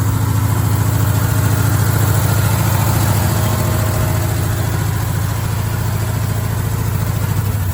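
A 1969 Pontiac LeMans engine runs after sitting for 25 years, a loud, steady, rough rumble that continues throughout without a break.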